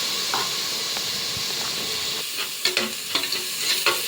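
Tomatoes fry in a pan for goat head curry with a steady close sizzle and hiss. In the second half, several sharp scraping stirs and clinks break through it.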